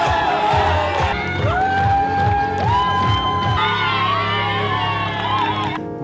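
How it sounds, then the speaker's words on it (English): Spectators at Ironman Hamburg cheer runners along the course, a loud, dense crowd of shouts and whoops with music playing underneath throughout. "there were a lot of people cheering you up with music boxes, partying"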